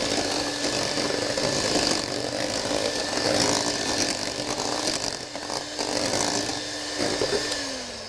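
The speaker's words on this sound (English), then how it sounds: "we're going to whisk the cream into the white chocolate to make sure it's totally incorporated" An electric whisk beats cream into white chocolate at low speed, giving a steady, close whirring drone that runs unbroken for several seconds with slight wobbles in pitch.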